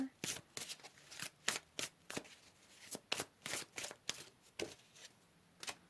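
A deck of tarot cards is shuffled and cards pulled, a run of crisp, rhythmic slaps and riffles repeating steadily for several seconds, close up and clear with no voices over it.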